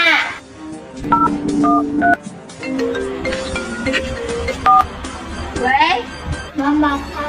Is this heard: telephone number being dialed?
yes